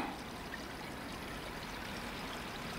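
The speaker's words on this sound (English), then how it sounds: "You can hear it's still running underneath it." Water still running beneath a frozen-over stream, a constant soft rushing trickle, steady and unbroken with no voices over it.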